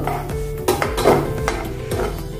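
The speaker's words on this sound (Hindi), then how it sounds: "वही तेल में मैंने काजू भी डाल दिया है। इसको भी, काजू को भी हम तलेंगे।" Cashews frying in a pan of oil left over from earlier frying, with clinks of a utensil stirring against the metal pan and a soft sizzle underneath, close and fairly loud.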